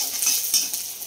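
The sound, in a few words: onion frying and being stirred in a pan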